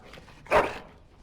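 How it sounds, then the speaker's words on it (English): A single short, sharp dog bark in the Dragon Age: Origins video game, close and fairly loud against a quiet background. "Bloody dog."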